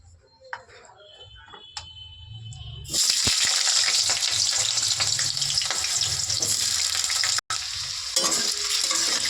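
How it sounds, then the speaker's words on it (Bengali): Potatoes dropped into hot mustard oil in a wok burst into a loud, dense sizzle after a quiet start with a few clicks, then crackle steadily and up close with a brief break near the end. "দেখো আলুটা ভালো করে ভেজে নেব"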